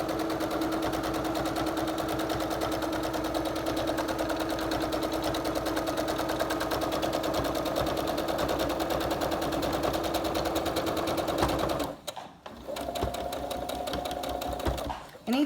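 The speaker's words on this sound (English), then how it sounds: "we're going to stitch across the bottom and close that bottom seam" A sewing machine stitches across the bottom seam of a fabric face mask, closing it: a steady, close, fast mechanical whir that runs unbroken for about twelve seconds, then stops briefly before a quieter burst resumes.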